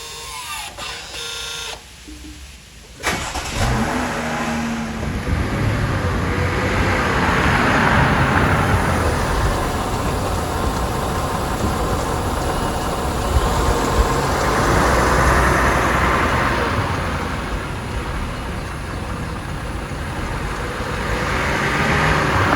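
A Chrysler Pacifica's electric parking brake engaging at the rear caliper: a steady mechanical whirring hum recorded up close outdoors, running for about twenty seconds after a short clunk near the start.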